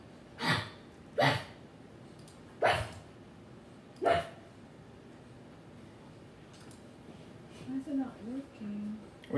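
A voice imitates a dog barking, with four short separate bark-like yelps spaced over several seconds, then quieter vocal sounds near the end.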